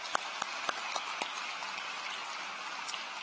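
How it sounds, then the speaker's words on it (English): Audience applause at a high school graduation ceremony, a dense, even wash of clapping from a large crowd heard at a distance, steady for a few seconds with a few sharper claps standing out. "Let's give him a round of applause"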